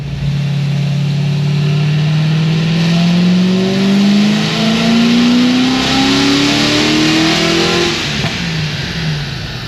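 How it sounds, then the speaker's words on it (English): A supercharged LS7 with aftermarket heads, cam and blower on a stock bottom end makes one loud, continuous pull, its engine note climbing steadily to 5100 rpm before dropping off near the end. "Just a quick pull to 5100."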